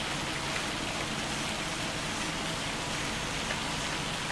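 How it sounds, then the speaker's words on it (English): Dense, steady hail hammering down in the farming video game Farming Simulator 25, a constant close roar of pelting ice with no gaps, heard alone. "Hopefully this hail will be gone as well."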